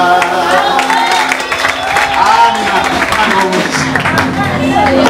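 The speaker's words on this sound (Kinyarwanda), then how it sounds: "mureke dukoma amashyi menshi cyane" An audience applauds steadily in a hall, the dense clapping mixed with cheers and continuing under speech and background music.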